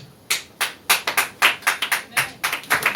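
Church congregation clapping during a sermon, a run of loud, uneven hand claps in a loose rhythm, close by, with no voices over it.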